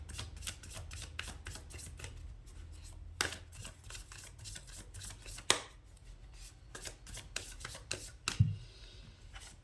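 Tarot cards are shuffled close up in quick, crisp riffling bursts, with a few brief pauses and taps between them, quiet and with no talk.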